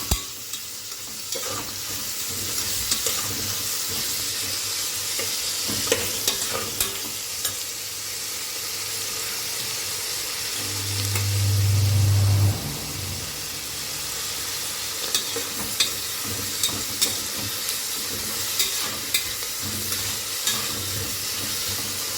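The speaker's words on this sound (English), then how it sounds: "a pinch of salt, so that the onions cook little faster. And I am cooking on medium flame." Onions fry with a pinch of salt over a medium flame for chicken biryani in a pressure cooker, giving a long steady sizzle with scattered stirring clinks and a brief low hum near the middle. No talking.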